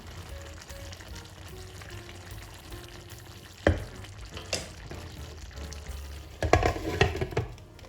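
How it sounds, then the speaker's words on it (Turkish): One-pan pasta stirred in a pan, a low simmering sizzle broken by scraping stir strokes and a cluster of louder clattering bursts toward the end. "Tekrardan bir karıştırıyorum. Çünkü tavanın dibine yapışmasın güzel güzel harmanlansın istiyorum."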